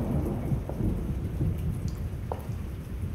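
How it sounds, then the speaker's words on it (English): Rain pours steadily in a thunderstorm, with rumbling thunder low underneath and scattered raindrop patters striking surfaces, a dense, constant wash of sound with no voices. "The rain gets in."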